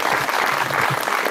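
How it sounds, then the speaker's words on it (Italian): Steady applause from an audience at a book presentation in Terelle, Italy, dense clapping that fills the whole moment without pause. "Ringraziamo l'autore Fernando Riccardi, facciamo un applauso"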